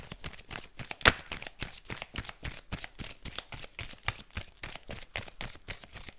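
Tarot cards being shuffled for a reading, a fast, even run of crisp riffling snaps close to the listener, repeating steadily with one sharper slap early on and no talking.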